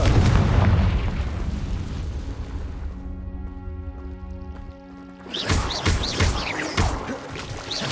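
The Confringo blasting spell explodes in the Hogwarts Legacy video game, opening with a loud rumbling blast. Calm tonal music follows, then another sharp burst of combat noise.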